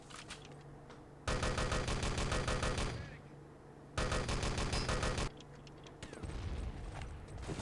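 Rapid automatic gunfire in a competitive video game match, two dense sustained bursts of about two seconds each rattling loudly over fainter background game sounds.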